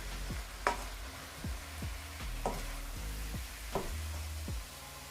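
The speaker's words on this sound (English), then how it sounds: "I'm gonna stir this in" A spoon stirs green onion into Jamaican-style fried cabbage in a pot: repeated scraping strokes in an uneven rhythm, close by, over a soft steady sizzle with no talking.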